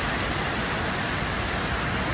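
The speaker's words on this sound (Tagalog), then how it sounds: "It's raining, guys." Steady rain hisses evenly, a constant close wash of falling water with no voices.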